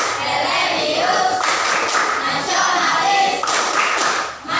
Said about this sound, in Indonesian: coba kita tepuk PPK terlebih dahulu. Tepuk PPK.